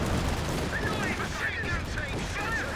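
Gunfire and explosions in a Company of Heroes 2 battle with bunkers and tanks: dense, crackling bursts over rumbling booms, continuous and busy throughout.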